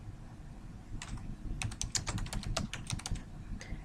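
A first and last name typed on a computer keyboard, a quick run of soft, close key clicks in short irregular bursts over a quiet background.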